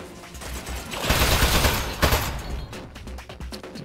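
Rapid turret robot gunfire in Aperture Desk Job, a loud sustained machine-gun burst that swells in the middle and then breaks into scattered shots, with no talking.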